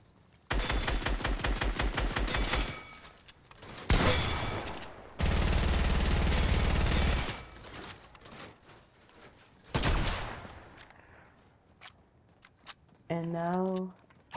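Weapons fired in the Fortnite video game: several loud bursts of rapid automatic gunfire and single shots, split by short pauses, with a faint rising tonal effect near the end.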